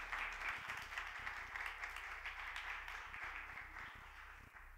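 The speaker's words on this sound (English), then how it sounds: "Another round of applause, please, for our guests." An audience applauds after a demonstration at an AANHPI Heritage Month event, with steady, moderately distant clapping from a crowd that slowly tapers off.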